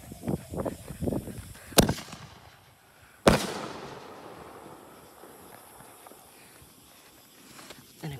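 Fourth of July fireworks fired outdoors from a cannon on the grass, with two sharp, loud bangs a second and a half apart, each followed by crackling and a fading tail, and lighter thumps before them.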